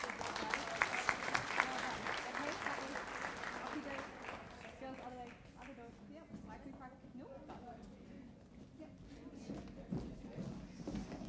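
Audience applause at an Amity College girls' high school graduation ceremony, a dense steady clapping that is loudest at the start and gradually thins out, with scattered voices and footsteps mixed in.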